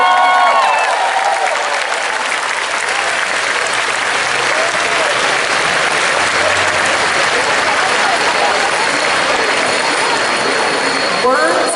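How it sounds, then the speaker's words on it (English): An audience at an outdoor memorial dedication and unveiling ceremony applauds in a loud, continuous wash of clapping that holds steady for several seconds, with crowd murmur and a low background rumble beneath it. "Let's make sure we give them a round of applause."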